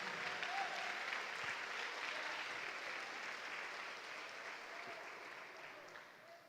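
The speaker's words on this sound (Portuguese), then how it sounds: "Você pode aplaudir o Senhor por esta palavra" A church congregation at Igreja Paz em Cristo bursts into sustained, dense applause that fills the room, steady and loud throughout before easing off slightly toward the end.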